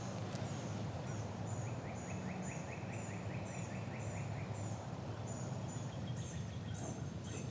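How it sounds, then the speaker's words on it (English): A wild turkey gobbles in the distance during a spring hunt in Maryland woods. Faint rattling calls come through steady outdoor ambience, alongside repeated chirping bird calls, with no talking. "I just heard a gobble up here."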